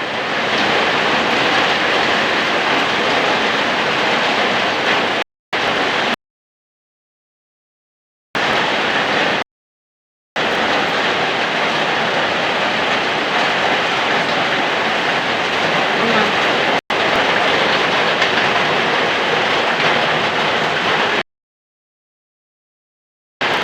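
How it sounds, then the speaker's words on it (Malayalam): Steady roar of heavy rain, dense and broadband, broken by several abrupt silent gaps, with no voices audible. "നമുക്ക് നല്ല മഴയാണ് കേട്ടോ, നല്ല പെരുമഴയാണ്"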